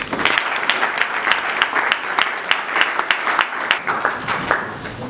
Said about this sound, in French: auquel nous tenons à présenter nos vives félicitations une fois de plus par vos applaudissements